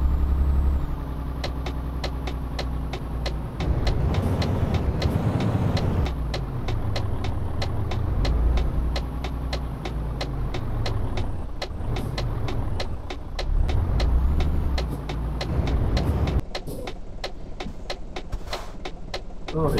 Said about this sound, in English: I think that's what we're driving now, is a Majestic truck.